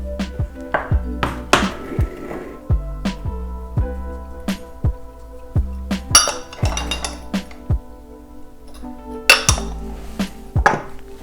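Spices being mixed into flour in a bowl while preparing a coating for deep-fried hake, heard as sharp, irregular clinks and knocks of utensils against dishes, close and fairly loud, with no talking.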